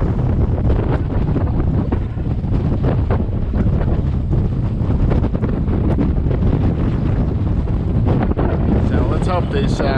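Strong wind roars steadily across a moored sailboat between cold fronts, a loud continuous buffeting with gusts and wave wash, dense from start to finish with no talk.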